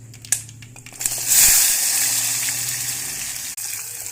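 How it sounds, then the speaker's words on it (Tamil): Chopped small onions and a tomato drop into hot oil already tempered with cumin and mustard seeds, a loud burst of sizzling that settles into a steady hiss of sautéing. "கொஞ்சமாக சின்ன வெங்காயம், ஒரு தக்காளி அரிஞ்சிருக்கேன், இதப்போ போட்டுக்கலாம்"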